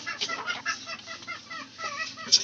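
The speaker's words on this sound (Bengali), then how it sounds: "সব মুরগি গুলা কিন্তু একসাথে খাইতেছে।" Chickens eating feed together cluck softly and repeatedly close by, a busy, uneven murmur of short calls with one sharper cluck at the end.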